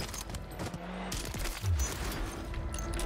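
Rifle fire in Warzone from a Kar98k plays as a run of quick gunshots with a loud, dense crack and rumble, part of steady game noise in the background.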